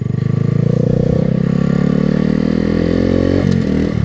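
A motorcycle rides and drifts on a snowy road in Sweden, its engine droning loud and steady up close, rising in pitch as it revs, with a brief clatter near the end.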